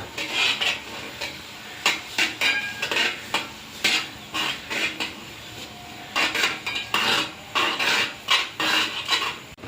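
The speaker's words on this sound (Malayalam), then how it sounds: "ഈ എള്ളും ശർക്കരയും കൂടി നമ്മൾ നന്നായിട്ട് ഇളക്കുക" Sesame seeds and jaggery syrup being stirred in a pan for temple-style sesame payasam, with repeated close clattering and scraping of a spoon against the pan in uneven bursts over a faint sizzle.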